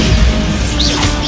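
A Bombarda spell explosion bursts in Hogwarts Legacy, a short, loud, crashing blast with a rumbling low end and a whooshing rise in the upper range.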